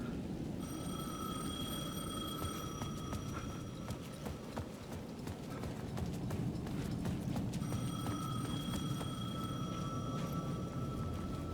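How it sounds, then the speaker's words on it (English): A payphone ringing at the edge of a plaza in Alan Wake 2, repeated electronic rings in two long bursts with a pause between, heard over a steady low ambient rumble. "The payphone at the edge of the plaza was ringing again"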